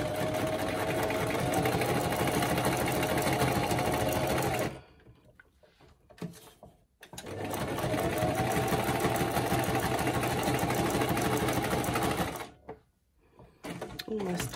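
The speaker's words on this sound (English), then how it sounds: "I am very quickly just going to sew around the three sides." Sewing machine stitching through a flattened toilet roll core, two long bursts of fast, steady mechanical whirring separated by a quiet pause with light handling noise, then a brief stop before it resumes.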